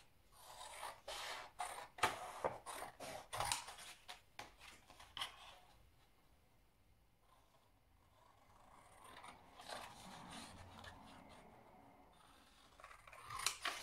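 Scissors snip through magazine pages in quick, crisp bursts of close cutting and paper rasp, then fall quiet for several seconds before a few softer snips and paper shuffles resume.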